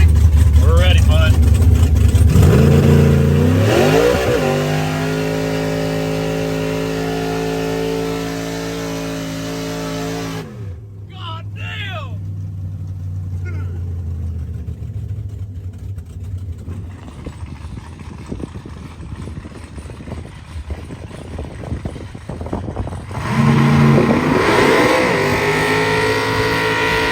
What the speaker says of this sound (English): first burnout. We're going to turn the nitrous on and see what happens.